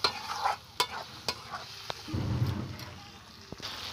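Phapsa fish is sautéed in spice masala in a pan, with sharp spoon clicks and scrapes over a quiet sizzle and a short burst of louder frying near the middle.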